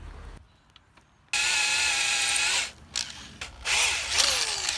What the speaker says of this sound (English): we do got to drill these out, and there's a special tool you got to use for that